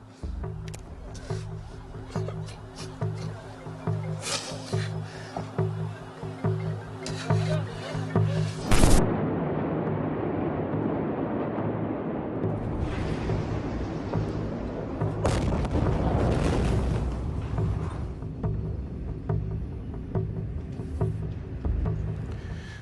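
The 2020 explosion in Beirut, Lebanon: a sudden massive blast hits after a stretch of noisy background, followed by a long heavy roaring rumble, then a second powerful surge of roaring noise several seconds later.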